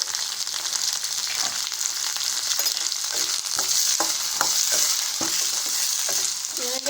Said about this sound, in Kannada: ಒಂದು ದೊಡ್ಡದಾಗಿ ಕಟ್ ಮಾಡಿರೋ 2 ಈರುಳ್ಳಿ ಟೊಮೆಟೊ ಹಾಕ್ಕೊತಾ ಇದ್ದೀನಿ